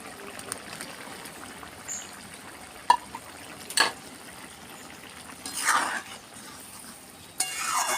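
Potatoes and tomatoes cook in a pan under a faint bubbling sizzle, with a few separate scrapes and clatters of stirring spread out at irregular moments.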